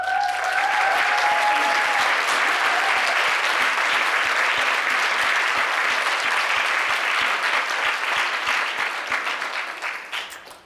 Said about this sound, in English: I want her to receive a huge round of applause from a lot of fearless women in this room